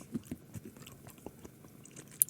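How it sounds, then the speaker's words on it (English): Someone chews Starburst candy close up, with soft, irregular, sticky chewing sounds and small crunches, faint and alone. "Sorry for the chewing."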